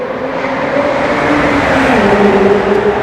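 A heavily turbocharged LT Spider sports car engine runs at high revs, a loud, continuous roar with a slowly shifting pitch, heard close up with no talking.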